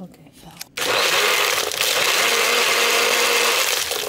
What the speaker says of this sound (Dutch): Matcha moet je normaal met zo'n klopper doen. Maar als je het gewoon heel hard blendt